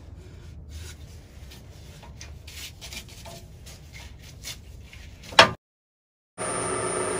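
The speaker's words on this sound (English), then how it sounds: "So I'm gonna sand this." Fresh-cut eucalyptus rainbow crotch wood is sanded on a lathe, giving a soft, continuous rubbing rasp with rhythmic strokes for about five seconds. After a sharp scrape, a short silence follows and then a steady motor hum.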